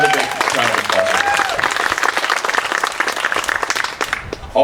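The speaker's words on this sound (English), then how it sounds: "So another big round of applause." An audience at a storytelling event gives a big round of applause, steady and full throughout, with a few voices heard over the start of the clapping.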